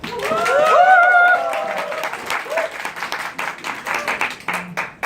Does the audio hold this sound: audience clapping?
yes